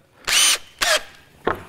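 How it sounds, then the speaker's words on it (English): A power drill bores 10mm holes through a jig for a permaculture bay system, three short loud whining bursts, the first longest, with brief pauses between, close up. "So I'm just going to drill them."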